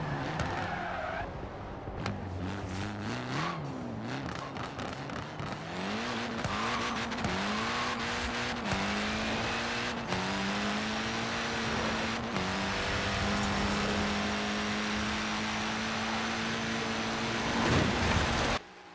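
A light, roughly 600-horsepower car in Forza Horizon 4 revs hard with tyre squeal, its engine note climbing through repeated gear changes in rising and falling sweeps, then holding a steady high drone before cutting off.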